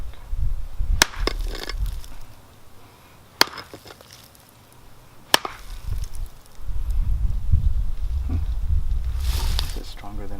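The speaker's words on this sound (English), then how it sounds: "I'm hitting this pretty hard. This is a pretty solid piece of" A solid cinder block takes several hard, sharp impacts, spaced and loud, amid rumbling handling noise and low talk as it begins to crack.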